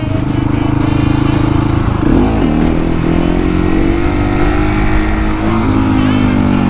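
KTM 701 Supermoto single-cylinder engine roaring loud and close during wheelie practice, with steady revving that dips and climbs as the throttle is worked.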